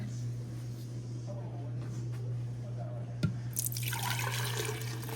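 Cranberry juice pours into a pitcher in a soft, steady trickle, becoming a brighter splashing stream toward the end, over a low constant hum.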